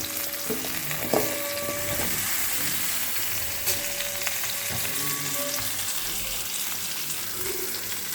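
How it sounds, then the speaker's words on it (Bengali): Diced potato and cucumber frying in a wok with spices, a steady close sizzle with stirring scrapes and occasional clinks of a utensil against the pan. "আলু এবং শসা যে ডুমো ডুমো করে কেটে রেখেছি সেগুলো কড়াইতে ঢেলে দিচ্ছি"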